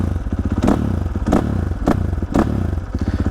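KTM 450 SMR supermoto motorcycle running on a motocross track on slick tyres, its single-cylinder engine chugging close by with steady low pulses and several sharp thumps and clattering bursts from the rough terrain.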